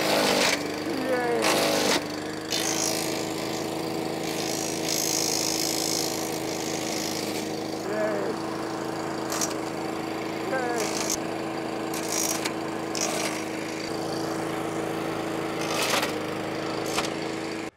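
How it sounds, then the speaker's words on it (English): A leaf collection machine chews big sticks about an inch and a half thick into its bag, a steady motor drone broken by repeated sharp cracking and splintering bursts, loud and close, with some talking mixed in. "it really takes the stuff, shreds it up, and goes in this bag"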